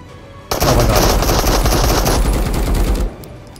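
A PPSh submachine gun blazing in the video game Marauders, one loud, sustained automatic burst lasting about two and a half seconds, starting abruptly and cutting off sharply.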